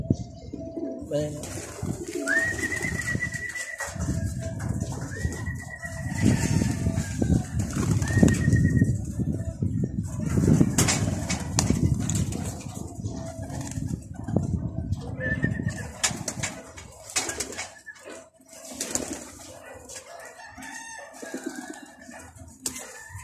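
Young pigeons cooing loudly and steadily up close, with bursts of wing flapping and rustling among many birds, with someone talking over them now and then.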